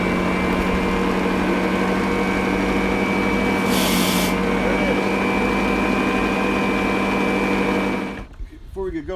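A Greenworks electric lawn dethatcher runs with a steady high motor whine and rattling tine hum, loud and continuous, then cuts off near the end with some handling noise.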